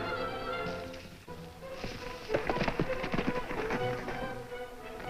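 Horse hooves gallop as a radio drama sound effect, a quick run of clip-clop beats that builds in the middle of the clip, with faint background sounds around it.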